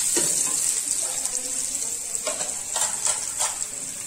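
Julienne-cut onions fry in a pan for a spinach and chickpea green pulao, giving a steady bright sizzle with a few soft stirring scrapes, close and continuous throughout.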